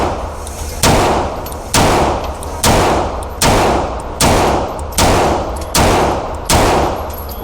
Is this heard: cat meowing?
no